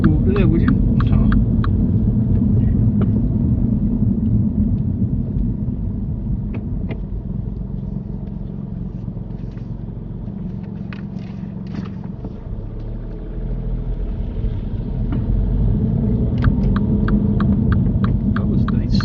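A car gently accelerating on a road during a driving lesson, heard from inside as a steady low engine and road rumble that dips slightly, then swells again toward the end.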